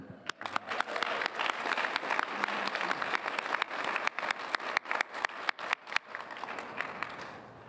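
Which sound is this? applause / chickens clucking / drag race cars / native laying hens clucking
applause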